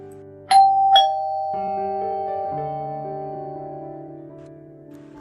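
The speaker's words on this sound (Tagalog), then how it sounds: "Kaya naman ay muli niyang inulit ang pag-doorbell." A house doorbell rings twice in quick succession, then a sustained two-tone chime rings out and slowly decays in a quiet interior, with a sharp click at the very end.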